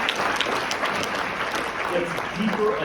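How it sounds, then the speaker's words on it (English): Audience at a New York Q&A for Daniel Craig, following a screening of Wake Up Dead Man: A Knives Out Mystery, claps loudly and continuously in dense applause throughout, with a few faint voices mixed in near the end. "Let's have a huge round of applause."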